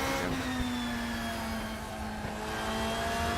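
A race car accelerates on a flying lap at the Brno circuit, its engine a steady, loud, rising drone heard from onboard, with no talk.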